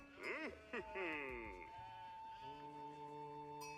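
Sheep bleat at a pasture in the Age of Empires 4 video game, a couple of wavering bleats followed by a longer sustained tonal call, moderately loud with faint commentary voice underneath.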